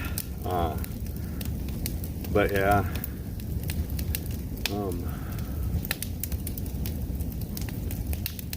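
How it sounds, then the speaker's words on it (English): A campfire of particle board and plywood burns in a fire pit, crackling with sharp scattered pops and a steady low roar beneath someone talking close by. "Get that burned up and the fire pit cleaned up so we can have logs and branches and nice stuff in there for the campfire."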